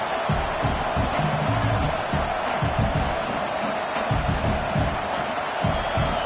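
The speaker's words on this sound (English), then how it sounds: "Listen to this crowd just shaking the girders of this place, trying to help their defense." A dense crowd roar fills a large college football stadium in the video game NCAA 26, loud and constant, with a commentator's voice murmuring underneath.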